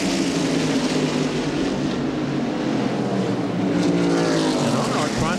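1995 NASCAR Winston Cup race cars roar toward the finish line at Darlington Raceway, a dense, loud, continuous engine drone with shifting pitch as cars pass close by.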